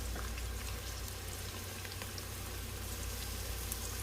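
Chopped onions frying in a couple tablespoons of oil in a pan, a steady dense crackle and sizzle over a low hum, even and close from start to finish.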